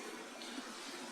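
Creek water flows over bedrock and limestone inside a cave, a steady soft wash of trickling water, faint and unbroken, with no voices.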